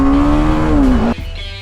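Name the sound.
BMW G 310 GS motorcycle accelerating in first gear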